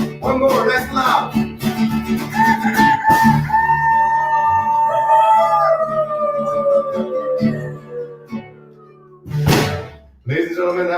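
A voice imitates a rooster crowing with one long wavering call that slowly falls away, loud and close, with music around it and a brief voice near the end.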